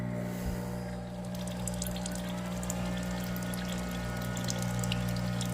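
A steady low hum from a coffee maker brewing water, powered by a portable power station, runs throughout, with light watery trickling and gurgling on top, quiet and close.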